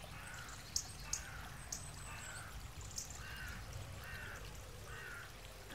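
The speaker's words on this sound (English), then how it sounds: "I'm being serenaded by a trickling brook and evening bird song" Evening birds call repeatedly beside a trickling brook feeding a tidal creek at Southpool, several distinct chirps and calls spaced over a faint, continuous water trickle.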